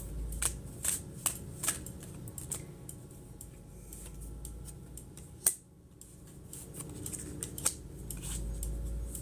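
Tarot cards being shuffled by hand, giving a run of soft, irregular riffling and tapping bursts with a brief sharp snap partway through, close and fairly quiet.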